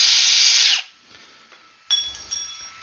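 A power drill sinks screws with a loud, high whirring burst that stops abruptly, followed by a short pause and then a second, fainter whine as another screw starts, with no talking.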